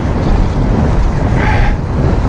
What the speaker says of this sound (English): Oh man, there's that wind again.